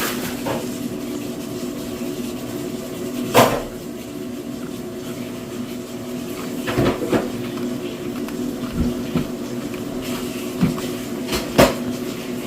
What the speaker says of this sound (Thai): มีแต่เสียงลุงล้างจาน